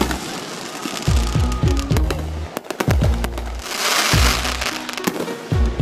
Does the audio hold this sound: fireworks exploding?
yes